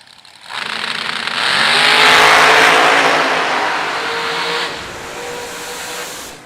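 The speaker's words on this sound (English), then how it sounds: "Stein in the Diamond Race Cars, 413 hot rod" Drag racing hot rod race cars roar down the strip, engines rising to a loud sustained blare then easing off, with no talk over the noise.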